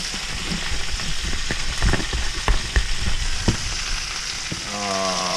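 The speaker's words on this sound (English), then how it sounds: "Shoot a little of that in." Onion powder dropped into a hot pan with oil sizzles and crackles steadily at close range, with small pops and occasional stirring clicks, no talking.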